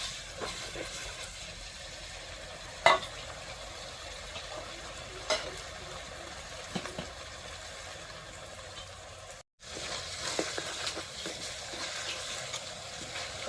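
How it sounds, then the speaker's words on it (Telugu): Tomato pieces frying in a pan with bitter gourd curry ingredients, a continuous low sizzle with occasional scrapes and knocks of stirring, steady and fairly quiet, briefly cutting out near the end. "మంచిగా వల్లవల్లాగేటట్టు కలుపుకోవాలి"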